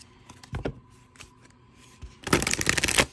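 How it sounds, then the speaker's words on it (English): Tarot cards riffled and shuffled by hand on thick cardstock, a few light flicks and slides early on, then a loud, dense burst of riffle shuffling near the end; no voices. "It's a really good shuffle."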